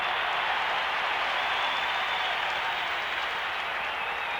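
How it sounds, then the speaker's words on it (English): Baseball stadium crowd at a 1991 Mets vs Cardinals game, cheering and applauding after a tying run scores; a dense, steady roar of cheers and clapping fills the whole stretch at constant loudness, with no distinct voices. "Big response from the crowd."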